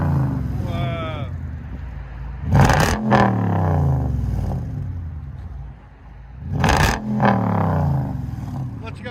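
A 2009 Mercedes-Benz E550 AMG with a supercharged 5.4L V8 and straight-piped true dual exhaust is revved twice, each sharp rise to a loud roar falling back to a lumpy idle, with voices talking nearby between blips.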